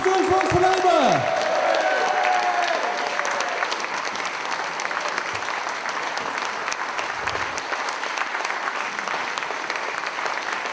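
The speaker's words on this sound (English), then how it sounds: "round of applause, Jewish Voice for Labour" Sustained round of applause from an audience at a Labour awards night, honouring Jewish Voice for Labour, steady and dense throughout with a few tonal voice traces at the start.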